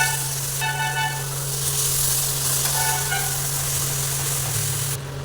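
Water poured into ground spice masala frying in a pan, a loud steady close sizzle and hiss with a continuous low hum underneath, easing off slightly near the end.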